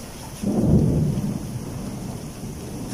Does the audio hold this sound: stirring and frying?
no